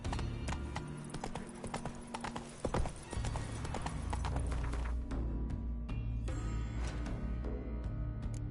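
Roach, the horse in The Witcher 3, gallops with quick, rhythmic hoofbeats that ring out loud and close, running steadily throughout.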